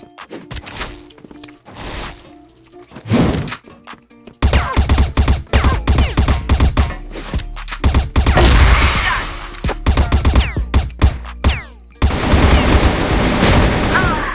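Rapid gunfire bursts from a shooting video game, loud and dense in repeated volleys with booms and crashes between them, running almost continuously after a quieter opening.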